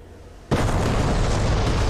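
JDAM bombs dropped from an F/A-18C Hornet in a flight-sim video game strike their target: near silence breaks into one sudden loud blast that rolls straight into a heavy, sustained roaring rumble.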